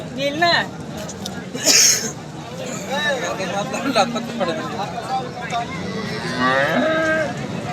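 Cattle moo repeatedly at a cattle market, deep drawn-out lows from several cows close by, over a busy background of crowd chatter.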